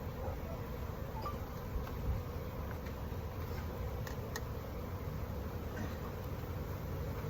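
Agitated honeybees swarm around an opened hive during a spring inspection, a steady, dense buzz of many insects filling the air continuously with no pause, close and moderately loud.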